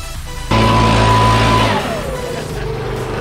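A vehicle engine on a farm during the 2020 harvest season revs up hard and loud, holds a steady high drone for about a second, then eases off into a lower idle rumble.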